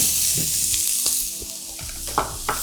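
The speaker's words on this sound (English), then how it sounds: "I'll let this saute for a little while" Onions and pimento sautéing in a pan for callaloo, a dense close sizzle with a few stirring scrapes toward the end, no talking.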